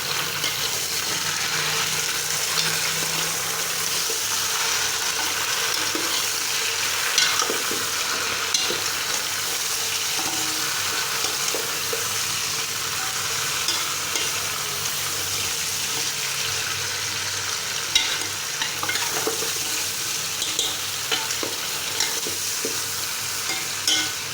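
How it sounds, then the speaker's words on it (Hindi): Beef trotters (paye) frying over normal heat in a pot, a steady close sizzle throughout with occasional scraping knocks from stirring. "नॉर्मल आंच से 10 से 15 मिनट इसको अच्छी तरह से भून लेंगे।"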